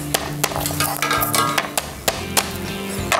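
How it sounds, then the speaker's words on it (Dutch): Garlic cloves being crushed in a kitchen, heard as a series of sharp, close knocks and thumps in an irregular rhythm, with a steady background hum. "Je kunt gewoon de knoflook kneuzen."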